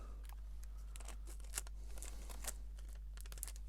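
Paper being cut and torn with scissors while assembling a shadow box craft, a series of soft crisp snips and short rips, close and fairly quiet over a steady low hum, with no talking.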